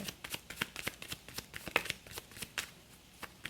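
Tarot cards are shuffled by hand nearby, giving a rapid run of crisp flicks and riffles that continues steadily with no talking.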